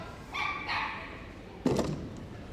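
A small, happy dog gives a few excited yips and barks while running an agility course in the Kennel Club Novice Cup Final at Crufts 2015, with a loud thump near the end and faint voices in the background.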